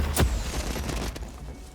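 Pulsar grenade launcher firing in the game Hawked: one sharp, heavy launch blast with a deep low thump, followed by a short mechanical tail and fading rumble.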